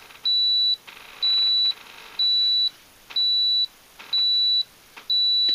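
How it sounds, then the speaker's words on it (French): A Victron BMV 700 battery monitor alarm gives six evenly spaced, clear electronic beeps, each about half a second long, repeating steadily at roughly one-second intervals over a faint background hiss. "Pour éteindre l'alarme, il faut appuyer sur un bouton."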